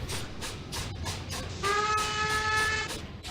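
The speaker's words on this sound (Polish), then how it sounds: "Dobra, jedziemy sobie pociągiem." A train running in the EEP 6 train simulator video game gives a steady rolling rumble with rhythmic rail clatter, and a sustained whistle or horn tone sounds midway for over a second, with no talk.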